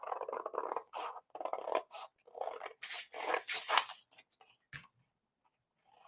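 Scissors snipping through paper while cutting out a piece for a Thanksgiving junk journal, a series of close, crisp cuts in quick runs that stop near the end.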